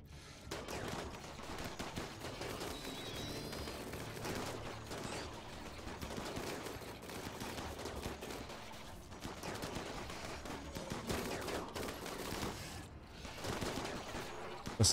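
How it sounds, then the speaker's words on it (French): A metal charge turret firing in Rimworld during a zombie attack: rapid, steady bursts of gunfire crackle for the whole stretch, with a busy, continuous battle din under them at moderate loudness. "Ça, c'est une tourelle. Charge tourelle en métal."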